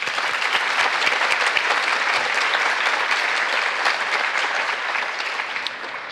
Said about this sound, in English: please just join me in applauding everybody who's taken the time to put this together